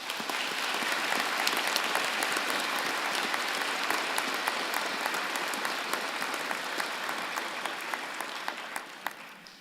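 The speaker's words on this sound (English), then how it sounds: "vigorous round of applause." Sustained applause from a convocation audience at a college spring ceremony, a steady wash of many hands clapping at moderate, slightly distant level, slowly tapering over ten seconds.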